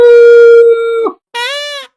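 A cartoon character's voice imitates a dog, giving one long, steady, howl-like bark followed after a short pause by a second, rising and falling bark, both loud and close with no other sound.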